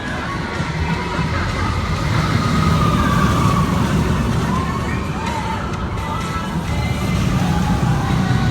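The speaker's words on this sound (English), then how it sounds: "Wow, look at that full train." A full amusement park train at Valleyfair rumbles past on its track in a steady, loud mechanical roar, with crowd noise and some talking around it.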